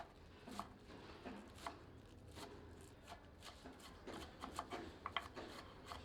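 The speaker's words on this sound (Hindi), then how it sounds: "थोड़ी हरी प्याज को बारीक काट लेते हैं।" A knife finely chops green onion on a board, with a run of light, quick taps and scraping cuts in an uneven rhythm, close but soft.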